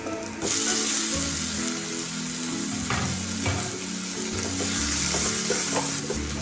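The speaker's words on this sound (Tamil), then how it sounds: "தக்காளி நல்லா வதங்கட்டும்" Small chopped tomato sautés in a pan for a cauliflower pepper fry, producing a loud, close, continuous sizzle with periodic stirring scrapes and knocks and no talking.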